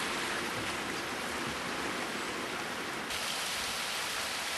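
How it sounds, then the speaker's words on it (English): A creek on the Boxvale Trail running high after winter rain: a steady, broad rushing of flowing water that continues without a break and stays fairly quiet. "some nice creek flow across here, and it's about as high as I've ever seen this creek been"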